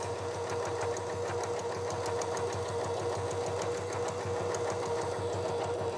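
A sewing machine stitches fabric continuously around a corner, ending in a backstitch, its steady rapid mechanical whir and needle clatter loud and close throughout with no talking.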